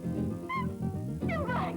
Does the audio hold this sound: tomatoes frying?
no